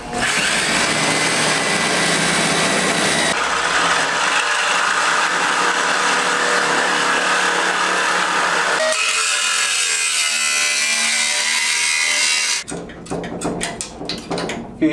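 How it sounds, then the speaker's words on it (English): A wire wheel grinds rust off the front clip of an R32 Skyline, a loud, continuous abrasive whine and scrape that shifts in pitch and pressure, followed by a short burst of scraping and clattering at the end. "I really dislike wire wheels"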